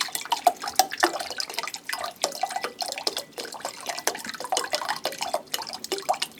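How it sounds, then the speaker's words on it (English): Liquid glugs and splashes in irregular bursts as it pours from a narrow outlet, a close, choppy gurgle with dripping accents running throughout. "when you're pouring out of a narrow socket, that liquid's got to be replaced by air"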